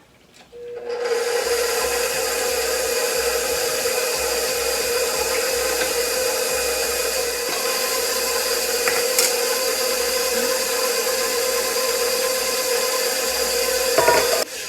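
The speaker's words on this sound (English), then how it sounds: "We're gonna start the mixer. I'm just gonna scoop my dry flour mix slowly on it" A stand mixer runs steadily and loudly throughout, whirring as dry flour is mixed into cake batter for a princess cake, with a brief clatter near the end and no talking.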